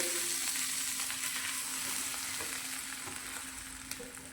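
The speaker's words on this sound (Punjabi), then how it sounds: "ਸਭ ਤੋਂ ਪਹਿਲਾਂ ਆਪਾਂ ਤਵੇ ਦੇ ਉੱਪਰ ਥੋੜਾ ਜਿਹਾ ਬਟਰ ਲਗਾ ਦਿੰਨੇ ਆ" Homemade butter sizzles steadily on a hot tava over a low flame, a soft continuous frying hiss that fades slightly toward the end with no one speaking.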